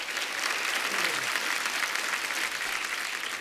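A studio audience applauds on the set of a Hindi comedy talk show, with dense, steady clapping from many hands throughout.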